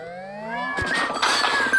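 A cartoon cat from the Crashy Cats video game yowls in a loud, rising meow, then game noise bursts in as it starts running, with no talk.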